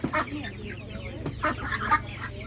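Chickens cluck in short, busy bursts nearby at a Ukrainian livestock market, with soft background noise between the calls.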